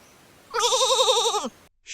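A sheep bleats once, a loud wavering call of about one second that stands alone against a quiet background.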